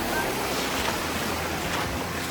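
Ocean waves wash and rumble nearby in a constant roar, with some wind mixed in.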